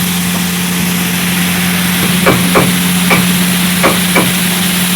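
Kothu parotta sautéing in oil with cabbage and capsicum on a griddle, a steady sizzle under a constant hum, with several sharp metallic scraping clatters from the spatula in the second half.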